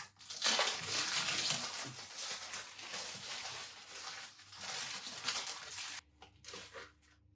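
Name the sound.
unwrapping paper wrapping from a coffee machine blade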